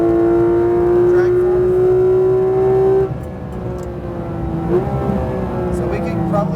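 A Porsche GT3 RS on a racetrack, its engine droning loud and steady at high revs, then dipping briefly at the upshift before pulling again at a lower pitch, with a voice talking over the engine noise.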